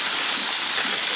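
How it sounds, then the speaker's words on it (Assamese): Cut potatoes fry in a pan, giving a loud, even, steamy hiss that holds constant for about a second, close by and without speech. "এইখিনি ধুনীয়াকৈ মই এতিয়া ভাজি ল'ম।"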